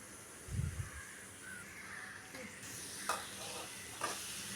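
Onion and curry leaves sautéing in a pan for a soya dish, a faint, steady sizzle with a few quiet stirring clicks, and a brief low thump near the start.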